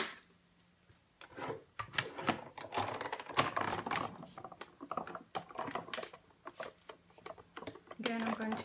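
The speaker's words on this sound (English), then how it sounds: "I'm going to die cut my snowflake too, the different design of the snowflake" Manual die cutting machine cranking a snowflake die through, a busy run of rapid clicking and rolling mechanical ticks, close and fairly quiet, with a voice talking over much of it.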